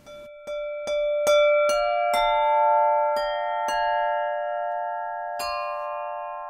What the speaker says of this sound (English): Now I'm going to demonstrate the amazing sound colors you can get. First, I will use a soft rubber mallet.